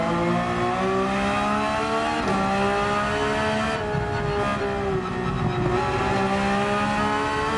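Porsche 911 GT3 engine at full throttle in Gran Turismo 7, a loud, continuous high-revving wail with rising pitch sweeps and brief dips at gear changes, steady throughout.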